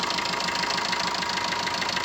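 A 2012 Maruti Suzuki Ertiga VDI diesel engine runs at idle, a steady close, loud clattering drone with a fast even knocking rhythm throughout.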